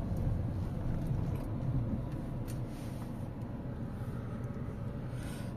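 A 2013 Volkswagen Jetta diesel pulls away on an uphill slope, its engine a low steady drone heard from inside the car with faint road rumble and no talk.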